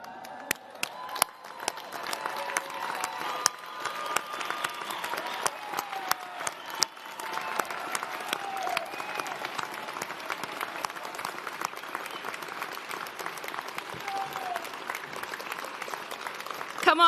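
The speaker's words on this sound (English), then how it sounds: "one final raise the roof round of applause" University of Salford Business School graduates and their audience clap steadily at a 2025 graduation ceremony, a dense, sustained wash of applause with scattered sharper claps and faint cheers throughout.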